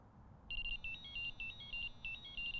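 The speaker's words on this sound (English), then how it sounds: "it's going to vibrate. You'll feel it vibrate in your hand." Nash R4 Siren bite alarm receiver giving a rapid, repeating high electronic tone in short pulsed bursts, close and clear over a low background hum, with no speech.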